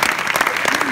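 An audience claps at a Scena na Piętrze concert, a brief, dense burst of close, even applause.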